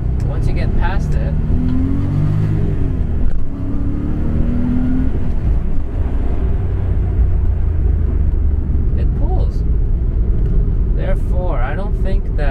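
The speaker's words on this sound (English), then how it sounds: "I can hear some audible knocking, which is not good" A Porsche 964 C2 engine revving hard at high RPM with a rough, knocking edge from running lean, loud and continuous, with some talk in the background.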